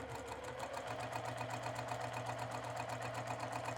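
A sewing machine stitches a garment sleeve seam, humming at a steady, even pace with a fast rhythmic needle pulse, fairly quiet and without voices.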